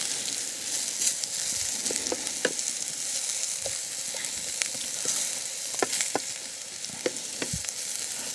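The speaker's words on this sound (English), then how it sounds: "So I'm not trying to fry these to a complete crisp, certainly not a mush." Low-carb corned beef hash frying over a hot firebox, a continuous bright sizzle with scattered pops and crackles of spattering fat, close and steady throughout.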